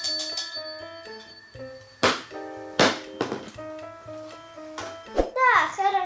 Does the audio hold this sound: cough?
no